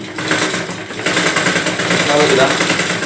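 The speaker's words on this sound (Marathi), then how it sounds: "इथे आपण एक फोल्ड मारून शिलाई मारून घ्यायची" A sewing machine runs in a continuous fast whirring chatter while stitching a folded strip of a petticoat, loud and close, with someone talking over it.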